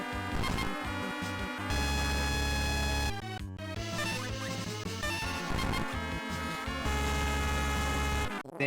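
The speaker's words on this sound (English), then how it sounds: "The loud beep in my ear is great." Loud electronic beeping from a game running on the ZSNES 0.15 emulator, held as steady buzzing tones with a thick, harsh harmonic edge over dense game music, continuous and close for the whole stretch.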